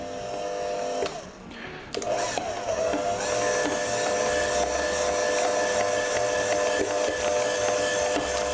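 An electric mixer whirs through Basque cheesecake batter with a steady buzzing motor whine, briefly dipping and catching before running on evenly and loudly to the end.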